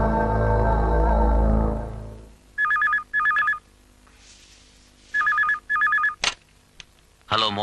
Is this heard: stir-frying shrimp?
no